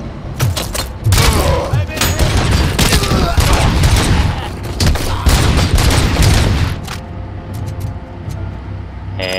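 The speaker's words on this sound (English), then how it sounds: "Who's shooting me?" Dense rapid gunfire and impacts in the first-person shooter RoboCop: Rogue City, a loud sustained barrage with thuds and booms that thins out after several seconds into scattered clicks, while someone talks over it.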